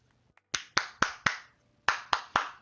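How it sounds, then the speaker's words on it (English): Clapping in the video game Civilization 6: two short bursts of sharp, crisp claps, four and then three, evenly spaced and close. "if you want to clap about it, we can clap about it"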